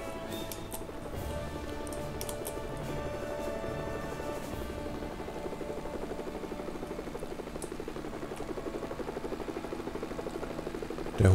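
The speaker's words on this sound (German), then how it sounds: "Der Hubschrauber fliegt jetzt ziemlich langsam am Anfang." Helicopter in the video game LEGO Worlds flying slowly, a steady continuous rotor drone with fine rhythmic ticking that holds at an even level throughout, with no voices over it.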